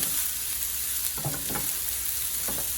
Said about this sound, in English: Just let it fry for a second.